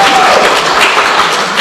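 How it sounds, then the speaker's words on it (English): Loud, dense clapping from a crowd at a music quiz night, sustained and even from start to finish with no talking on top. "Round of applause for this"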